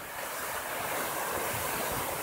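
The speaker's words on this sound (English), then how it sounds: "That's pretty common for this time of year for the waves to be about that big." Ocean waves break steadily on the shore, a loud, continuous roaring wash of surf close by with no talk.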